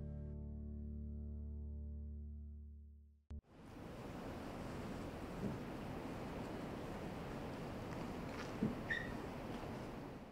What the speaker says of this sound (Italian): Sensazioni freddo. Sì, e vento, tanto vento.